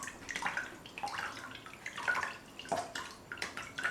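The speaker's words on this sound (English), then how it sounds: "squeeze it so it's letting the water in, and then like squeezing it out" Water squeezed from makeup brushes during a rinse, giving soft irregular wet squelches and drips that repeat in quick bursts close by, with no talking.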